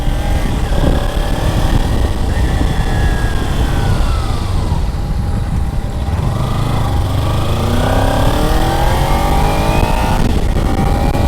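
A 2025 Kawasaki Ninja 300 motorcycle rides steadily, its engine droning loud and close throughout, with rising revs and audible gear shifts as the pitch climbs and drops between gears.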